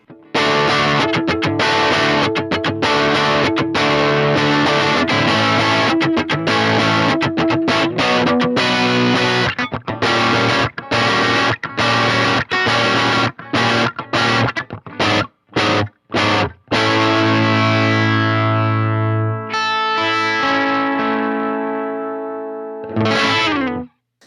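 Heavily distorted electric guitar plays through a Marshall Class 5 amp with an external EQ and the amp's own controls set at neutral, loud, dense chugging chords and riffs with brief stops and a ringing final chord.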